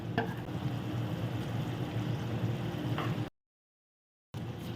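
A spoon scrapes and stirs chicken perattu with fried coconut and onion in a pan over a soft sizzle, a few knocks on the pan, then the sound cuts out briefly.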